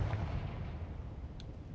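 A Confringo fire spell from Hogwarts Legacy bursts with a loud, booming explosive blast that rolls off into a rumbling tail, with a short bright crackle near the end.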